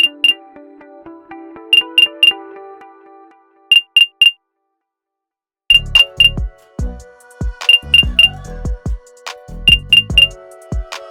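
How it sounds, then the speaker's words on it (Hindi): SJ Pods Pro 2 earbuds sound their locating buzzer through Find My, a series of bright, ringing electronic beeps in short repeated bursts with brief gaps, close and clear, alone without talk. "GPS सेटिंग्स में जैसे ही एयरपॉड्स को सिलेक्ट करेंगे तो एक बीप बीप का बजर सुनाई देगा"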